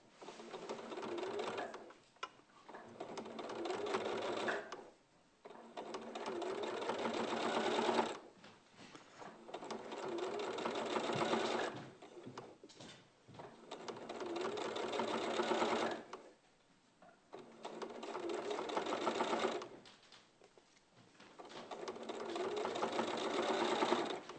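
A sewing machine stitches fabric in a studio setting, running in loud sustained bursts of several seconds each with short pauses between, its whirring mechanical hum steady and close.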